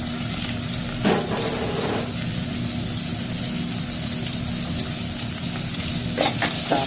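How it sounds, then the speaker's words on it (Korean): Continuous hissing sizzle of kimchi stir-frying in cooking oil with pork shoulder, chili flakes and minced garlic, with occasional scraping stirs and a low steady hum underneath. "자 김치를 먼저 볶아주는 것이 포인트예요"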